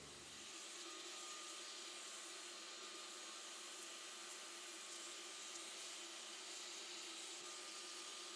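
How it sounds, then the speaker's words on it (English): A vacuum cleaner whirs steadily with a high motor whine while cleaning a car interior, starting up and running continuously nearby without talk. "we're just gonna dust everything and just vacuum closely next to it as I'm doing it"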